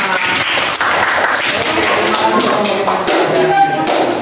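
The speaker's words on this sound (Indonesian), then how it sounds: "tepuk tangan untuk kelompok 5" A third-grade class claps for group 5 after a lesson on metamorphosis, a dense, steady patter of many hands heard up close.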